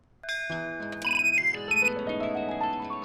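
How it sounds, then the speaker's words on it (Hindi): A telephone ringtone plays a bright electronic melody of clear, sustained tones in a quiet room, loud and close, with no talking over it. "ओह वंदना बहन, अदिति का फोन आया है।"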